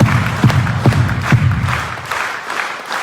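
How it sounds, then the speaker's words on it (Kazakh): A concert audience in Kazakhstan applauds a singer on stage with a few strong rhythmic rounds of clapping and scattered cheers that then fade to looser, thinning applause. "Қазақтың чон шапалағы ұнады ма?"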